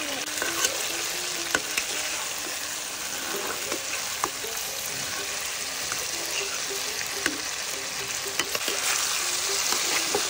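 Boiled jackfruit pieces dropped into well-fried lentils in a hot pan, a steady loud sizzle with occasional sharp stirring clicks and scrapes, no voices.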